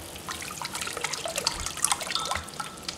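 A sterilized spoon stirring homemade grape wine, soft liquid sloshing and light clinks in a gentle, irregular swirl, close but fairly quiet.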